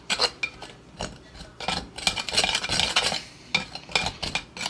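Butter being worked into a homemade gravy mix with a kitchen utensil until it turns sandy, giving repeated close scraping and stirring scratches against a bowl in short uneven bursts.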